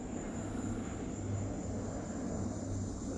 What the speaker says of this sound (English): Big old cargo jet went by.